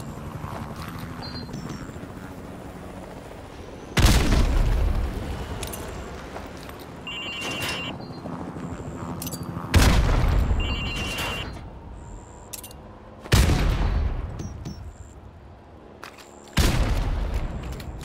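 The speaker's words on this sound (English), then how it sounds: "Throw a grenade into windows 2," Grenade explosions in Call of Duty 4 Remastered, thrown into windows on a demolition training course: four heavy booming blasts spaced a few seconds apart, each with a loud sharp onset and rumbling decay over steady background game ambience.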